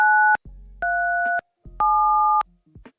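Runestone Chomik notes from the Roblox game Find the Chomiks, three loud electronic two-tone beeps, each pairing a high and a low pitch over a low hum, separated by short gaps.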